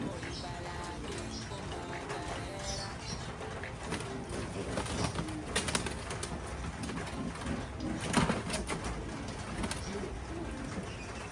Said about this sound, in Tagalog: Giant birds.